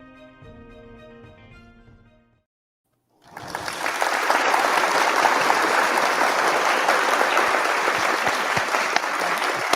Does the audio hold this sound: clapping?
yes